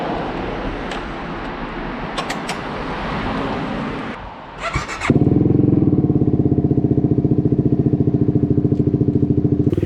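A modded Chinese motorcycle engine fitted with an exhaust baffle runs loud and close, first a rough revving roar, then a brief dip before it settles into a steady, pulsing idle.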